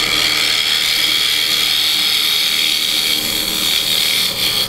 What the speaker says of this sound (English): I love using a carbide on Purple Heart because it does a wonderful job of moving the wood and leaving a nice surface